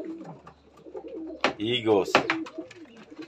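Pigeons in a fancier's loft coo in throaty, rolling bursts, mixed with people talking close by.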